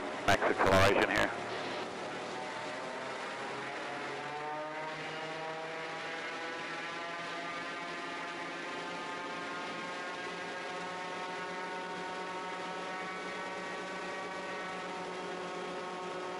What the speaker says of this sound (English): Just trying to get the engine all tuned in so I can get the max acceleration here.